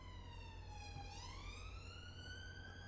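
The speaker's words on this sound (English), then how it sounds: "Oh, it's a police car going the other way." A police car siren in the Cities Skylines II city-building game wails alone, its pitch dipping and then climbing again, faint and distant.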